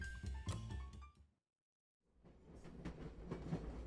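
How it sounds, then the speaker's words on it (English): A freight train rolls along in the video game Where the Water Tastes Like Wine, its rhythmic wheel clatter broken by a brief silent gap mid-clip before resuming. "Hop a train, the Flying Crow."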